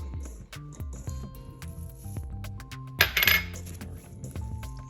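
Cheddar cheese and flour are stirred together in a bowl for biscuits, making soft clinks and scrapes of a utensil against the bowl, with a brief louder rattle near the middle.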